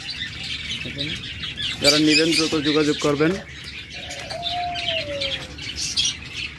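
Caged birds sold alongside doves squawk loudly in a harsh burst, then a long whistled call rises over steady chirping, while someone talks over them.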